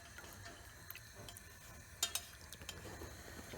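Dye mixture stirred in a warming pot on the stove, heard as soft scraping and a few light clinks of the spoon against the pot, quiet and close with no talking.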